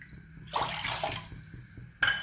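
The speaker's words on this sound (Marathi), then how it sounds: "आपण दीड वाटी पाणी घालणार आहोत" Water is poured into a pan of semolina in a short splashing stream that tapers off, followed by a brief second splash.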